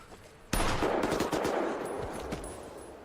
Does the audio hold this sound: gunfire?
yes